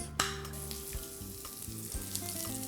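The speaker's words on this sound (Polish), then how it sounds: "patelnia jest nagrzana. Wrzucamy odrobinę tłuszczu, będzie tłuszcz wieprzowy smalec." Pork lard sizzles and crackles in a preheated frying pan, a steady close hiss with small pops and a few soft clinks of a utensil.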